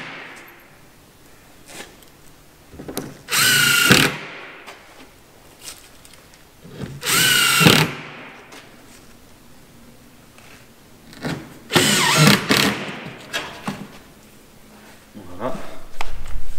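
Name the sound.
power drill drilling a hole for a bolt in a pallet rack workbench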